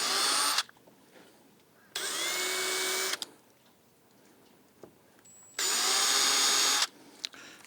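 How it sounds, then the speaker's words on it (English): Three short bursts of a high-pitched power drill whining as a small bit drills pilot holes, each a second or so, separated by quiet pauses with faint handling noises. "I'm going to spot these holes with this small drill bit."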